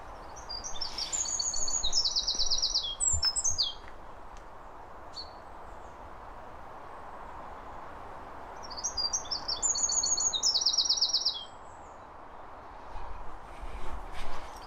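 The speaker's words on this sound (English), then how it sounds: "So peaceful here, apart from the birds shouting." Birds sing in spring woodland with wild garlic and a distant motorway nearby, their bright chirping phrases coming in two clear bursts over a steady low traffic rumble, with no talking.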